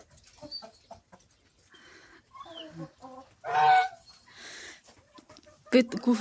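Hens clucking inside a warm henhouse, with several birds calling in short bursts and one louder squawk near the end, while people talk and laugh nearby.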